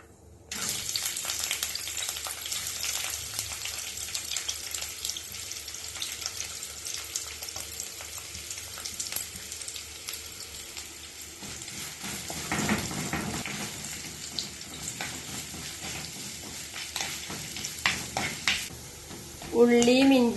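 Sliced onion, shallots, garlic, ginger, green chili and curry leaves sizzle in hot oil while being stirred for a Kerala egg curry, a steady crackling fry with brief louder stirring and water splashes near the end.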